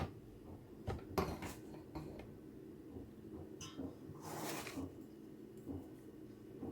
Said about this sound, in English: taking my 1/4 cup measuring scoop